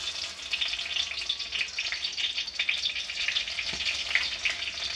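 Dried red chilies fry in hot mustard oil, giving a steady, close crackling sizzle with fine popping throughout and no voices.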